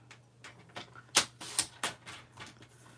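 Paper being cut for a paper pumpkin craft project, a series of crisp, close snips and rustles spaced irregularly, with a few sharper cuts standing out and no talking.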